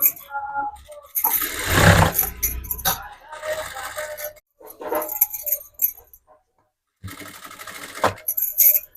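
A domestic sewing machine runs in bursts, stitching a lining and the main fabric of a sewn garment together, with short pauses and light clicks between the runs.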